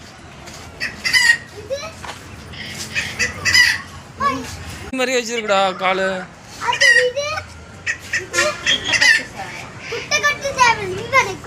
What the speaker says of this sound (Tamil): இது நம்ம கோழிடா, பிரம்மாவா.